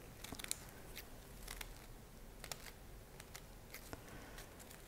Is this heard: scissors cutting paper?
yes